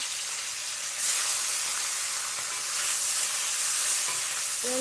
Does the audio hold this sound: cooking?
yes